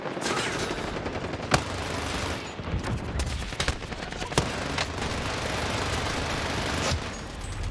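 Gunfire in Call of Duty Warzone, sustained rattling bursts of automatic fire over a dense noisy backdrop, with several sharper individual shots cracking out near and mid-distance.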